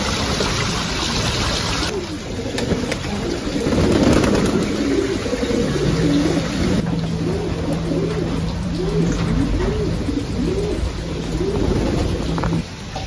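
Pigeons coo in a repeated rhythmic series, several birds calling steadily at close range over a constant outdoor hum and faint water, no speech.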